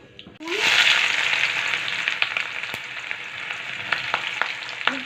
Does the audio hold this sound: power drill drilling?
no